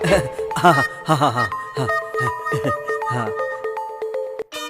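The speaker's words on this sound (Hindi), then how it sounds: "फोन बज रहा है" A bright electronic ringtone melody plays loudly, its tones stepping up and down in a repeating pattern, with voices speaking over the start.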